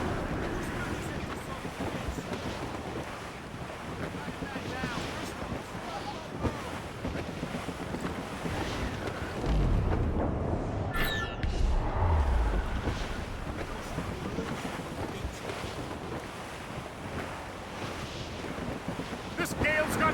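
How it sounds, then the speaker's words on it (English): Strong wind gusts over the open sea aboard a sailing ship in the Assassin's Creed Rogue video game, a steady roaring bluster with waves and hull noise, swelling louder near the middle. "I don't like that wind, sir!"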